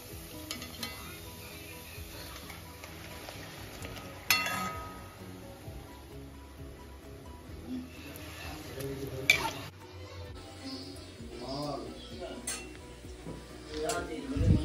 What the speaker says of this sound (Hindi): कढ़ाई चढ़ा दी, अब हम बनाएंगे पकौड़े